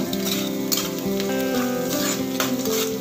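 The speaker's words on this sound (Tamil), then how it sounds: "கட் பண்ணி வச்சிருக்க பீன்ஸ் ஆட் பண்றேன்." Chopped beans hit a sizzling pan for samba wheat kichadi, a loud continuous frying hiss with stirring scrapes, close and without talking, while a tonal melody plays underneath.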